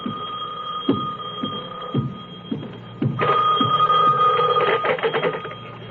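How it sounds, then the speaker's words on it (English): A telephone rings in repeated bursts, a steady electronic trill that grows louder and busier toward the end, with no one speaking. "the phone was ringing"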